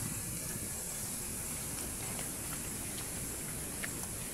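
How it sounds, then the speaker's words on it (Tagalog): Strong fire grilling dried squid, tomatoes and onions gives a steady, close, loud hiss and crackle of flame with faint occasional pops throughout. "Parang malakas yung apoy"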